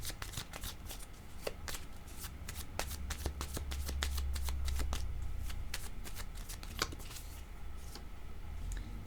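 Tarot cards are shuffled over and over, a dense stream of crisp riffling clicks and slaps, close and continuous, with no talking.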